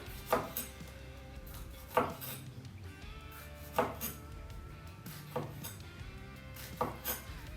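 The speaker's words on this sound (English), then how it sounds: "So we're gonna get your knife, slice them up." A knife slicing smoked jalapenos on a cutting board gives sharp, evenly spaced chops roughly every two seconds, close and fairly soft, with quiet kitchen room tone between the cuts.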